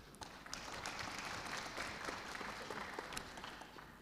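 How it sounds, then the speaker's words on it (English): An audience at a conference floor session applauds to welcome panelists onto the stage, steady moderate clapping from a seated crowd that holds evenly for several seconds without speech. "Let's welcome our panelists with a round of applause,"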